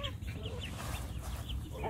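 Several ducks squawk and honk over one another in a noisy, agitated cluster while fighting over bread, fairly quiet, with low rumbling background.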